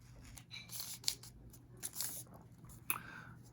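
Scissors cutting through paper, a few quiet, close snips and crisp rustles spaced irregularly.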